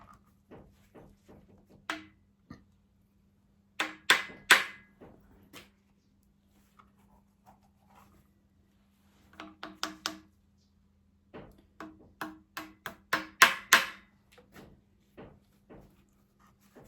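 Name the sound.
tapping small pins into place on TEF 20 engine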